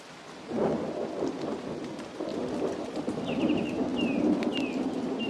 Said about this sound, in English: The storm soaks the jungle of Costa Rica and its inhabitants, including vultures.